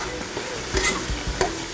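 Stew being stirred in a big pot just after chicken seasoning goes in, a few scraping, clattering spoon strokes with light bubbling and sizzle underneath, fairly close, no voices.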